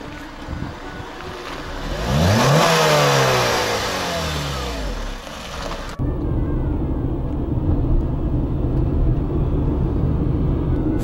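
A car driven by a 15-year-old on the Blue Ridge Parkway near the Great Smoky Mountains: the engine revs up and eases off, then a steady, loud road and wind rumble continues after a sudden cut.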